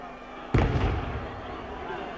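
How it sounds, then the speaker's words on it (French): A single booming report from a Corsican cannon fired outside a football stadium during an SC Bastia match, sharp and loud, decaying into a rumble over a crowd and commentary background. "c'est le canon corse qui tonne, mais hors du stade"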